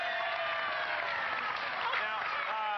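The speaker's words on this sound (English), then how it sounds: "Let's give him a nice round of applause." Studio audience applause for a boy on a Nickelodeon game show, a steady, even roar of many people clapping that holds at a constant loudness throughout.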